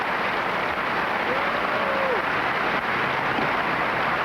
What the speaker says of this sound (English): And the crowd really appreciating this.